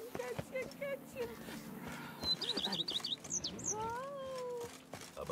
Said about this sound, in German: Hier, Kätzchen, Kätzchen, Kätzchen.